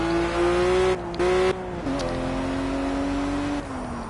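A race car in the Project Cars racing game drives with a sustained, loud engine whine whose pitch rises and drops with brief gear shifts, alone with no voices.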